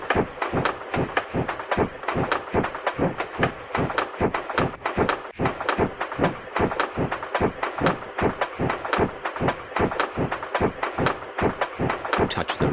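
Steady rhythmic train chugging from the Peppa Pig Train Ride video game, a continuous run of evenly spaced beats that carries on loud and unbroken throughout.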